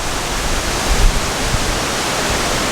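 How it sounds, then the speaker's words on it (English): Strong wind buffets the microphone outdoors, a loud, steady broadband roar with a few low gusty thumps and no voices. "Plenty of wind."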